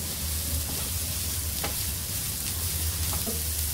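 Mixed vegetables fry steadily in a hot pan for savory semolina appe, giving a continuous close sizzle with a few soft stirring clicks and no voices.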